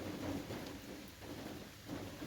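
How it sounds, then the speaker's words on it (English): Heavy rain pours steadily outdoors during a long march, with a low rumble of thunder beneath the constant hiss of falling water, fairly faint overall. "This rain is just getting so much"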